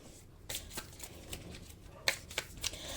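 Tarot-style cards being shuffled to draw a card during a reading: soft brushing and riffling with a few crisp flicks and snaps, close and fairly quiet, with no speech.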